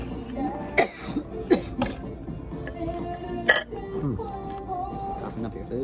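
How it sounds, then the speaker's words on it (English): Someone coughs a few times while eating chips at a New Year's gathering, short sharp bursts heard close over a background of people talking and faint dish clinks. "Coughing up your food."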